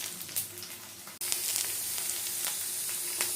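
Garlic fries in a pan until pink: a light crackle suddenly jumps to a louder, continuous close sizzle that holds steady to the end.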